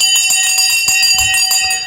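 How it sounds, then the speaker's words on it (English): A bell rung during a live online show about investing rings steadily and fairly loudly, its sustained overtones holding through the whole stretch with no talking over it. "Just wanted to ring the bell for you."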